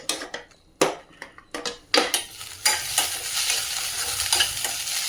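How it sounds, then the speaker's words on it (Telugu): Onions sautéing in a pan for Indian tomato rice: a low sizzle under a run of sharp spatula scrapes and knocks against the pan, close and uneven, settling into a steadier frying hiss toward the end. "ఇక్కడైతే ఇప్పుడు ఉల్లిపాయలు మగ్గిపోతున్నాయి"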